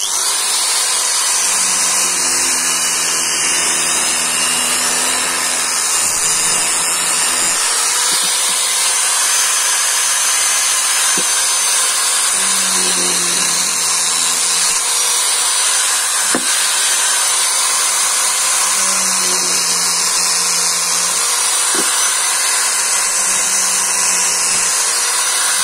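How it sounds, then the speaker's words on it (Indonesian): An angle grinder cuts into the top of a dry car battery, a loud, continuous high whine that holds steady for the whole stretch, with a lower droning hum surging and easing between passes. "Kita gerindanya di sini, nih di atasnya ini."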